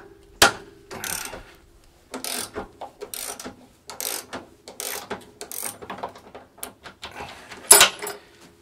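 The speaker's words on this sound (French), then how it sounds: "on va dévisser la vis ici et l'autre de l'autre côté" A tight bolt on a Mercedes 190E is undone with a ratchet, giving repeated close clicking bursts in an uneven rhythm with short pauses between turns and one sharper clank near the end, with no talk.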